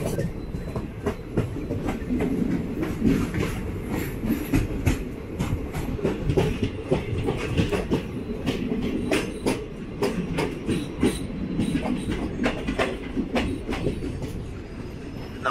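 The 06602 Madgaon Express from Mangalore to Madgaon rumbles steadily along the rails, heard from inside a carriage with continuous rhythmic clickety-clack of the wheels over rail joints and no talk.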